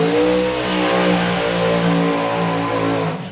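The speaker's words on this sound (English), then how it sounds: "As we move into the Supercharged Outlaws with the little Hemi Hustler, that is Mike Couch down there." Supercharged outlaw drag racing car with a small Hemi engine revs loudly and close at a hot rod drag strip, a sustained deep roar with wavering pitch that holds steady before easing off at the end.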